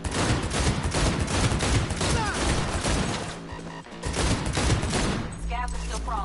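Pistol fire in the video game Cyberpunk 2077, a dense run of loud gunshots and impacts that goes on almost without a break, with a short lull before the firing resumes.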